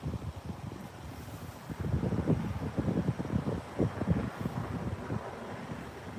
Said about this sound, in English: And a truck going by.